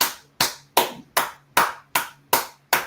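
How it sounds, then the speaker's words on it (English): Crowd at a class of the Israelite School of Universal Practical Knowledge clapping in unison, eight sharp, loud claps on a steady, even beat of about two and a half per second, with no talking. "Clap it up."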